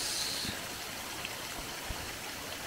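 Water flows steadily through a creek on regenerating land with swales, a continuous broadband rush and trickle heard close up with no voices.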